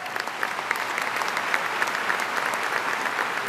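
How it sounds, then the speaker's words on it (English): An audience at a university convocation claps steadily, a dense even wash of applause that holds close and moderately loud throughout, with no one speaking over it. "Let's give him a round of applause."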